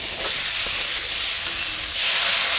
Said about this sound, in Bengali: আমি এখন জল দিয়ে দিব।